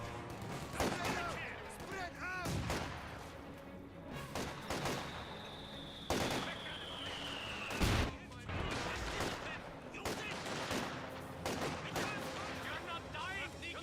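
Bursts of rifle fire and scattered shots from a Company of Heroes 2 skirmish, conscripts trading fire with Grenadiers, recurring every second or two over a busy battlefield backdrop while a commentator speaks.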